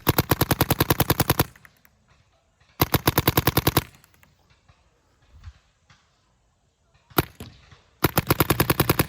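An Angel LCD paintball marker fires in ramping mode, rapid bursts of sharp, evenly spaced pops in quick strings, loud and close, with short pauses between bursts.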